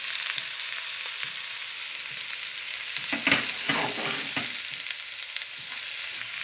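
Tomatoes stir-fry in a pan for dal fry, making an even, steady sizzle throughout. A short burst of spatula stirring comes midway, heard close and alone, with no talking.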